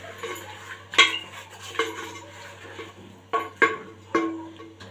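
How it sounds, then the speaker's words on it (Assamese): A spoon scrapes and knocks against a pot while a cucumber and black lentil curry with green chillies is stirred, giving several distinct clinks and scrapes spaced over a few seconds, close and moderately loud. "এতিয়া মই ভালদৰে গোটেইখিনি লৰাই দিম"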